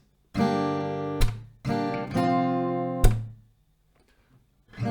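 Acoustic guitar chords strummed in short bursts, each ringing out, with sharp claps cutting in between, then a pause near the end.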